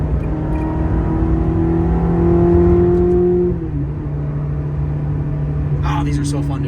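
A 2000 Ferrari 360 Modena engine with F1 gearbox hums steadily under load, its pitch rising as it accelerates, then dropping after a shift and settling into a lower drone.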